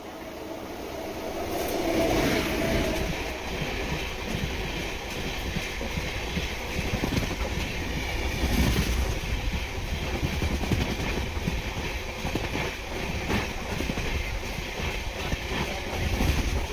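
Chennai Egmore Express train from Mangalore Central to Tambaram running on rails, heard from inside with a continuous rumbling roar, rhythmic clatter and some wind noise throughout.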